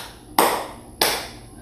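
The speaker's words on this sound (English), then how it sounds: "And clap around with me." Two crisp hand claps about half a second apart, close and clear, with a faint background between them, as children clap along to a song.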